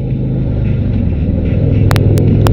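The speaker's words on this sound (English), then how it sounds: "this right here is a 2016 Harley Davidson RoadGlide" A 2016 Harley-Davidson Road Glide with a 103 engine rumbles loudly and steadily up close, a deep continuous idle-to-cruise throb, with a few sharp clicks near the end and no talk.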